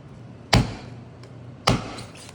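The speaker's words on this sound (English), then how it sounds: "Now I'm just going to chop off" Two sharp knife chops on a cutting board while cutting up fish parts for tomato fish soup, each a loud close thud about a second apart, with quiet in between.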